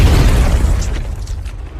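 A grenade blast in an action film, heard as a loud, deep rumbling boom that fills the moment and then fades into a crackling tail over about two seconds.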